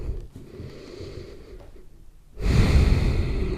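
A slow inhale taken while lying down during a breathing exercise, a soft, faint airy draw of breath followed by a louder, fuller rush of air, with no speech.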